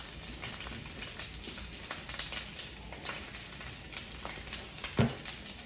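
Butter biscuits from a Mongolian army ration fry in a frying pan, a soft steady crackling sizzle with small pops and one sharper clink near the end.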